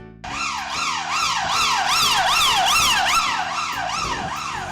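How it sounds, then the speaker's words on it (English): A loud police car siren wails in a continuous rising-and-falling cycle, repeating steadily and sounding close. "I bet you've seen a police car before. With bright flashing lights and a noisy siren."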